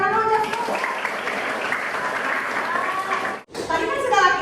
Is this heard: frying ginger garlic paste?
no